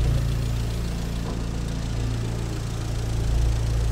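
An Audi S3's 2-litre, 300-horsepower engine holds a steady, loud low hum with a faint rise in pitch; it sounds close and continuous with no talk.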